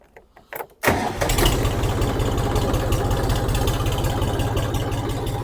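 The three-cylinder engine of a Forte RD-244 Lux mini tractor cranks briefly with a few rough bursts, then catches and settles into a loud, steady, close diesel idle with no talking.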